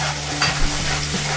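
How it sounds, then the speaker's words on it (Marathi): Onion and puree fry in a pan while a spoon stirs them, giving a close, brief sizzle with a couple of soft scrapes. "छान अशी हलवत राहायची,"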